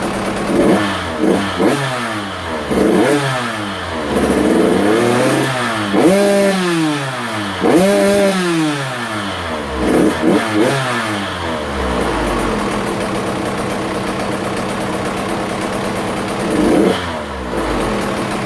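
A KTM 85SX-class 85cc two-stroke dirt bike engine, freshly rebuilt and warmed up, revs repeatedly in sharp rising and falling bursts, loud and close, then settles into a steady idle.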